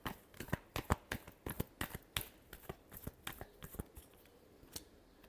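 Tarot cards being shuffled in a rapid run of crisp riffling snaps and papery flutters, close and fairly quiet, with no talking.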